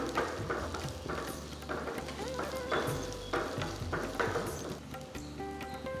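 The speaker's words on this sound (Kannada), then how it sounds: "ಸಣ್ಣದಾಗಿ ಕಟ್ ಮಾಡ್ಕೊಂಡಿರೋಂತ ಕ್ಯಾಪ್ಸಿಕಂ ಆಡ್ ಮಾಡ್ತಾ ಇದೀವಿ" Finely chopped capsicum goes into a sizzling cabbage Manchurian stir-fry, with continuous loud frying hiss and repeated scraping stirs and clanks of the spatula, close up and without any talking.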